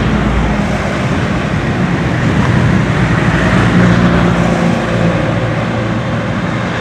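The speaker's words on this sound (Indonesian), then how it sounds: "Nah, ini ada truk besar dari arah barat ke Jakarta. Ini Hino, Hino 500 gandeng ya, ke arah barat." Large Hino 500 trailer trucks passing steadily along the Pantura highway, a continuous loud broadband roar of traffic and wind with no speech.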